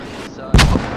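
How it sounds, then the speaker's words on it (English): A single mortar round fires in the video game Squad, one sudden heavy boom partway through, loud and close, following a quiet stretch. "I got mortars going out southeast of the ambush hill right now."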